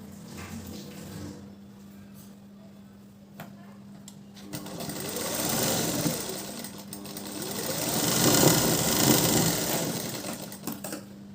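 Sewing machine stitching a blouse, first a soft idle hum, then two louder rapid bursts of stitching with the motor pitch rising and falling.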